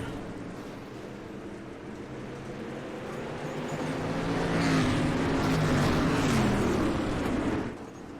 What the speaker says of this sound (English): Hunter McCoy, LaFon, side-by-side battling for the first lap since we went green